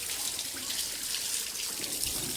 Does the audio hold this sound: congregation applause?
no